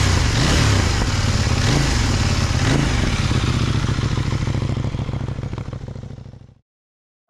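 CFMOTO 800NK motorcycle accelerating hard, a loud rough engine roar with crackling exhaust pops, rising in pitch and then fading out before the clip ends in silence.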